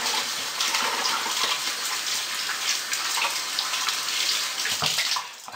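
Tap water gushes steadily and close into a sink while soap is rinsed off during soap making, a continuous bright splashing that cuts off near the end with no speech.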